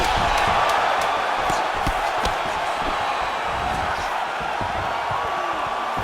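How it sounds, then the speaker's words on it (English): Arena crowd in the UFC 4 fighting game roars steadily with loud, dense cheering and murmur, with scattered thuds and claps throughout and a faint voice mixed in. "So the crowd voicing its appreciation after that round"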